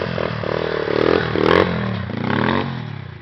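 A small pit bike engine revs on ice in winter with its throttle sticking, a close, buzzy, rising and falling engine whine lasting a few seconds.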